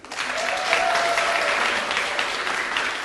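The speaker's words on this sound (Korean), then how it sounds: "박수 한번 쳐주세요" Audience applause at a vocal recital, a steady, dense wash of many hands clapping that fills the room for the full stretch, with a faint sustained tone underneath.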